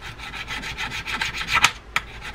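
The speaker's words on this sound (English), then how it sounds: "Take a flat file and just scrape over that." A flat file scrapes old grease off a baitcasting fishing reel part in close, rhythmic rasping strokes, with a couple of sharper scratches toward the end.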